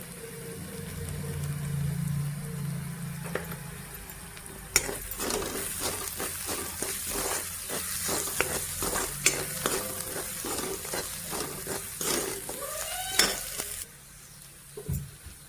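Potatoes sizzle as they fry in oil with spices, steady frying hiss first, then a spoon scraping and stirring against the pan in rapid repeated strokes, close by, before the stirring stops.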